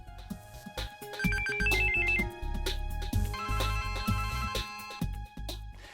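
A mobile phone ringtone plays continuously, a bright electronic melody of repeated tonal phrases over a steady beat, loud and close, with no talking.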